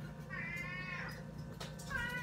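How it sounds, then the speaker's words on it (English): A cat meows indoors, two drawn-out plaintive calls close by, the first longer and the second starting near the end, over a low steady background hum. "This is the one that's meowing."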